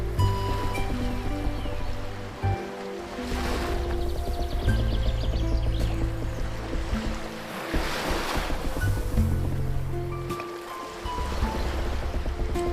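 Sea waves wash against the shore while a large wooden boat sails along, a steady rolling surge with low rumbling swells that swell and ease every few seconds, continuous and fairly close with no voices.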